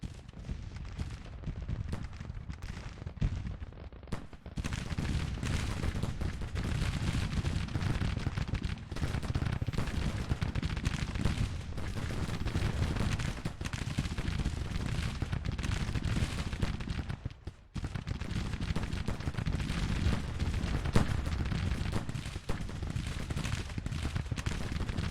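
A Confederate battle line in the Civil War strategy game Grand Tactician fires in sustained volleys, a rolling roar of massed musketry with heavy rumbles, dense and continuous for most of the stretch with one brief lull.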